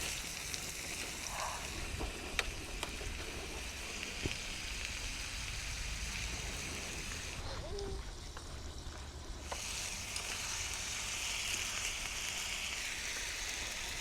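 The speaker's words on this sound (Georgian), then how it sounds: "და დავიწყოთ ნელ-ნელა ხორცის ტაფაში გადატანა." Pieces of meat frying in melted butter in a pan, a steady broadband sizzle and crackle that continues throughout, with a brief quieter dip partway through, and no talking.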